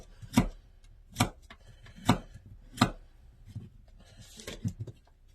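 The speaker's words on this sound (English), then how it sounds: "I'm just going to go ahead and finish chopping up some of these vegetables" Vegetables are chopped on a cutting board for a Golden Curry lunch: four crisp, evenly spaced knife strikes close up, followed by a few softer, quicker taps and scraping, with no talking.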